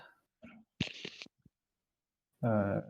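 Playing cards riffle-shuffled during a Twilight Imperium board game: a brief papery flutter of about half a second, between short bursts of nearby talk.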